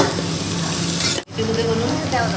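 Vegetables and meat seasoned with black pepper frying in a pan, a steady close sizzle that runs through the clip with a brief dropout midway.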